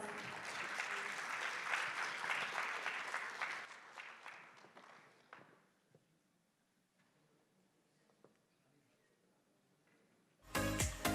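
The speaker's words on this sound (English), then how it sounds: "Please have a big round of applause." A crowd applauds loudly for several seconds, the clapping thinning into scattered claps and fading out, before a sudden loud burst of noise at the end.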